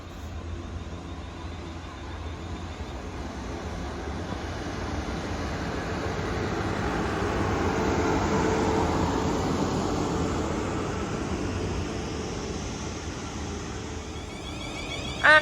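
A South Western Railway passenger train pulls away and passes at Hinton Admiral, a broad rolling rumble that swells to a peak midway, then slowly eases off, heard alone at moderate distance.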